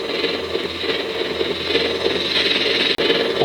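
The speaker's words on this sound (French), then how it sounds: "On entend le moteur qui tourne par contre." Motor running inside a HasLab Spengler Ghostbusters proton pack toy, a steady close electric hum and whir with faint vibration, holding at a constant level before a brief dropout near the end.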